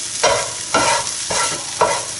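Onion and garlic frying in a pan are pushed aside with a utensil, making four rhythmic scraping strokes over a steady sizzle, close and clear with no talking.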